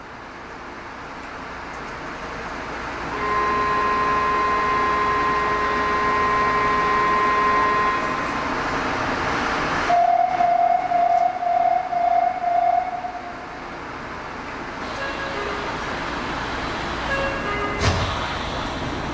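A Nagoya City Subway Tsurumai Line train pulls away, its rising motor whine and rolling rumble building steadily inside the car, with a chime partway through and a recorded announcement voice heard over the running noise.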